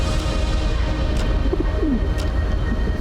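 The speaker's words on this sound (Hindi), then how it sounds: "ये कबूतर जब नीचे आया है तो इसका भी पैर नहीं टिक रहा है।" A pigeon coos softly a few times in a cold, snowy mountain setting at Amarnath, faint against steady wind-like background noise, with no voices.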